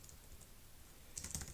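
Quiet computer keyboard typing, a short burst of a few quick keystrokes near the end after a stretch of near silence.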